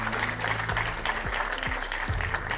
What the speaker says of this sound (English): a round of applause for our two MEPs on The Ring, Stine Bosse and Tilly Metz